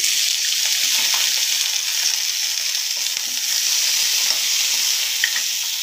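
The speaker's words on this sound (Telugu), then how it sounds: "పచ్చి టమాటా ముక్కలు పెద్ద పెద్ద ముక్కలు కట్ చేసుకొని కొద్దిగా ఆయిల్ వేసి వేయించుకోవాలండి" Green tomato pieces cut large fry in a little oil for a tomato and peanut chutney, giving a steady, close sizzle with faint stirring scrapes and no talk.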